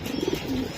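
A racing pigeon coos softly in a short low burst of a few throaty pulses, close by, over a steady background hum.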